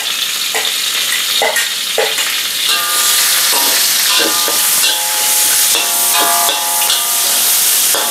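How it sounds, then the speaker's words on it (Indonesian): Ginger and garlic fry loudly in hot oil in a home kitchen, a close, bright sizzle with crackles and spattering bursts, and utensils scraping and clinking as they are stirred. "Kita masak kita punya halia dengan bawang putihnya ya,"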